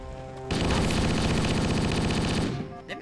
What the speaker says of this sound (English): Oh, that's a grenade!